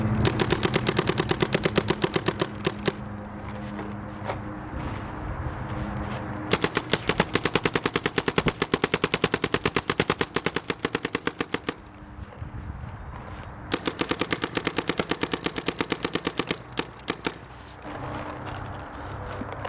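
A Planet Eclipse Ego LV 1.6 paintball marker shoots APX paint in rapid, sharp bursts of cracking shots, several long strings separated by short pauses, close and loud.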